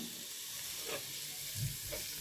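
Onion sautés gently in ghee and oil, giving a soft, steady sizzle that stays faint and even, with no voices.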